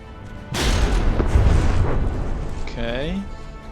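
Heavy naval cannon fire in a warship battle game: a loud booming blast with a long rumbling tail, followed by a short whistling, descending tone.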